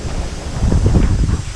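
Strong wind blows across an outdoor bath site, a loud continuous rumbling roar of gusts buffeting the microphone, swelling slightly partway through with no talking.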